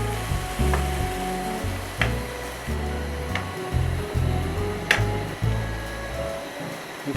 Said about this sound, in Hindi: इसी पॉइंट पर हम बॉईल की हुई चने की दाल इसमें ऐड कर रहे हैं। दाल को अच्छी तरह मिक्स करेंगे।